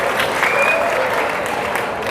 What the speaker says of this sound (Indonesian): Tepuk tangan buat TKJ.